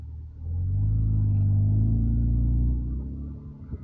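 A BMW E36 fitted with a Remus exhaust idles and creeps in reverse, a deep steady rumble swelling near and loud for a few seconds before easing off, with faint clunks at the end.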